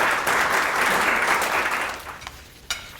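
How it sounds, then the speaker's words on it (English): A room of attendees at a media conference claps together in steady, dense applause, fairly loud at first and then tapering off to a few last claps. "let us please put our hands together in applause for the Honourable Mr Damien Tudehope MLC."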